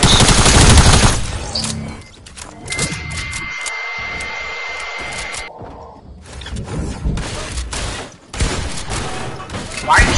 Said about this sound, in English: Why are you shooting at me when I can't even shoot back at you